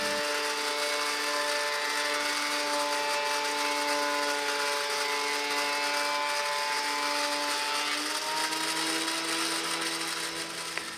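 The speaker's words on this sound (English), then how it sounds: "Have you ever run an 8-foot post through a thickness planer?" A thickness planer feeds an 8-foot redwood 4x4 post through its cutter head, giving a loud, steady, continuous machine whine with tonal hum that holds for the whole stretch and shifts slightly near the end.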